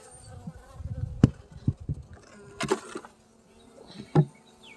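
Honey bees at an opened hive during a queen release buzz softly in the background, broken by sharp knocks and clicks from handling the hive, with a few louder bursts of activity.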